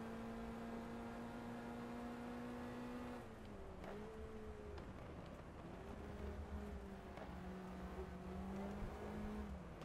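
Lotus Cortina race car engine in GT Legends at Anderstorp South, droning steadily at high revs, dipping around gear changes and braking before climbing again, continuous and loud with no talk.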